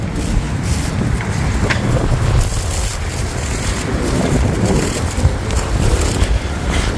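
Strong wind roars steadily across the microphone, a dense, continuous low rumble with gusty buffeting throughout and no clear voices.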